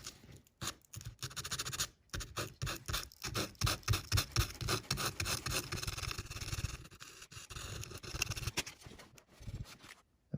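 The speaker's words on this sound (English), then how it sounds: "you can take some 220 grit sandpaper and just gently take off some of the paint" Fine 220 grit sandpaper gently rubs paint off hand-painted graffiti on a model railroad wall, making quick, close, repetitive scratchy strokes in a steady rhythm with brief pauses.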